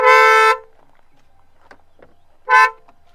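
Two loud horn honks from a 2024 Kia Seltos diesel, a half-second blast then a shorter one, separated by a quiet gap with faint background noise.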